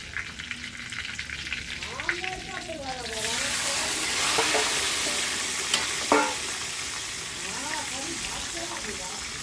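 Chicken pieces in garlic batter frying in a pan, a soft crackle that swells into a loud, steady sizzle once the chicken goes in, with occasional stirring clinks and a voice talking faintly over it.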